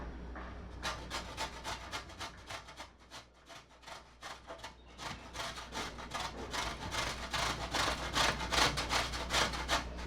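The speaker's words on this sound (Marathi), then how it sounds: "आता आपण इथे रताळं किसून घेऊ" A sweet potato is rubbed against a grater in a rapid, rhythmic series of close scraping strokes that slowly grow louder, with no talking.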